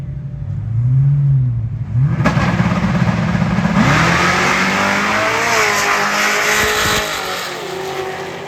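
Drag racing street cars, among them a supercharged Camaro, idle loudly and then launch with a sudden roar. The engines rev hard and climb through the gears as the cars pull away, and tires squeal, all loud and close with no talking.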